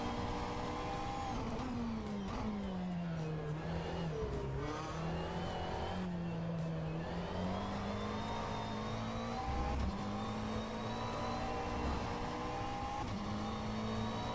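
A race car engine drones steadily in the Assetto Corsa Competizione racing video game while driving uphill, its pitch dipping and climbing through gear changes at a fairly quiet, continuous level.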